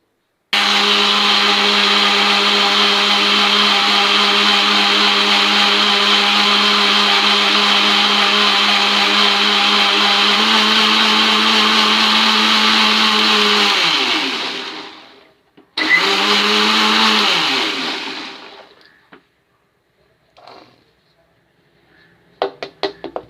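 An electric blender churning milk cream into homemade butter, a loud steady motor whine with a strong hum that winds down, restarts briefly, then stops, leaving a few faint knocks.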